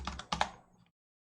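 Quick bursts of typing on a computer keyboard, a cluster of close, clicky keystrokes in two short runs, then silence.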